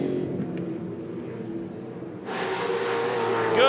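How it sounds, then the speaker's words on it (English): V8 Supercars race cars at the Perth 400 in 2006 circuit racing, engine roar rising and swelling through a turn, loud and close, with commentary talk underneath. "Turn 1 here, Tander on the inside of Lowndes"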